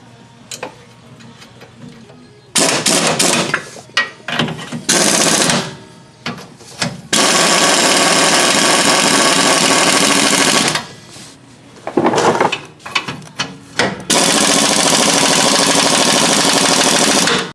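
Power tool bursts tightening and torquing nuts on traction bar brackets of a Chevrolet Silverado Duramax diesel truck, loud rattling impact runs of several seconds separated by short pauses, with no talking.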